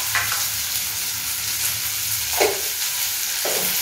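Curry leaves, green chillies and a pinch of salt sautéing in oil for a Chettinad kosumalli, a steady close hiss of frying with a few brief stirring scrapes, no voices.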